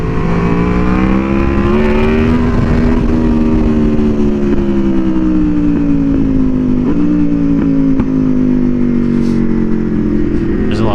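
An Aprilia Tuono V4R motorcycle engine roars loud and close in sustained rev bombs, its pitch swelling up and then sagging down again over a steady growl.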